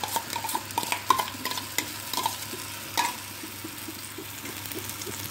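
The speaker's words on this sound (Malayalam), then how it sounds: "നന്നായി ഇളക്കുക, നന്നായിട്ട് വരട്ടെ ചക്ക." Spoon scraping and stirring jackfruit frying in ghee in a pan with soft sizzling underneath, a series of clinks and scrapes close by, then quieter frying.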